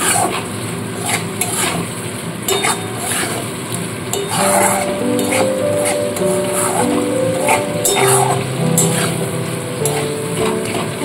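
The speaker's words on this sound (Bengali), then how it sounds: "সর্ষেটা দিয়েও আবার ভালো মতো করে সমস্ত মশলাটাকে কষিয়ে নিতে হবে।" Spices being sautéed with ground mustard in a pan for a sarputi fish curry, a loud close sizzle under repeated scraping and clattering of a spatula against the pan, with faint tonal background sounds.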